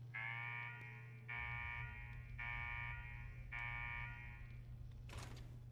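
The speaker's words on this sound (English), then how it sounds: "What the hell is that alarm?" An alarm blares in the Fallout 4 video game, with four long, evenly spaced electronic buzzing tones over a low steady hum. A short burst of noise follows near the end.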